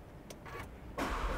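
An Audi RS3 Sportback, a used car on a test drive, starts up: a few faint clicks and whirs, then the engine catches with a sudden loud roar that carries on to the end.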